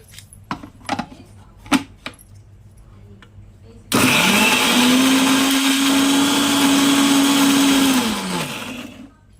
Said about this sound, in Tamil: இந்த மாதிரி ஒரு கொரன்னு அரைச்சி எடுத்துக்கோங்க